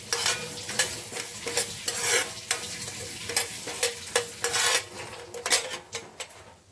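Spices dry-roasting in a pan for a coastal-style silver fish sambar, with steady stirring scrapes, light crackle and repeated sharp clinks of a utensil against the pan, close and alone.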